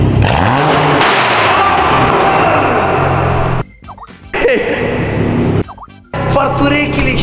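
Car engine revving on a street in the rain, a 2005 car taken out after four months: loud broadband roar with bursts and brief drops, interrupted by short pauses, people speaking around it.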